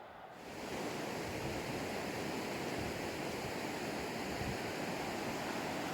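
Steady roar of water pouring over Meelick Weir on an Irish river, a broad continuous rush that swells in within the first second and then holds constant and fairly close, with no voices.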